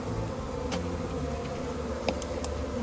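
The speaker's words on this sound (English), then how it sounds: "Ooh, they're not happy. Just gonna have to let that. Oh. Oh. The buzz is getting louder." Agitated honeybees buzzing at an opened hive in March, a steady close drone with a few sharper individual bees zipping past, no talk.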